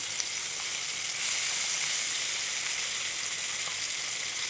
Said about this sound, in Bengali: তেল দিব কড়াইতে মাছগুলো ভাজা হতে থাকুক